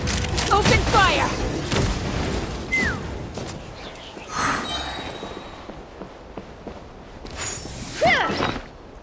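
Cannon fire booms and explosions rumble through a Genshin Impact battle with whooshing effects. Several heavy blasts come in bursts alongside game sounds, and a voice speaks over part of it.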